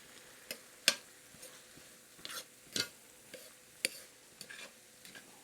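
Wooden spoon stirring breadcrumbs and green onion into a thick, gravy-like Jamaican patty filling in a pan, soft scraping strokes with a few sharper knocks against the pan over a quiet sizzle.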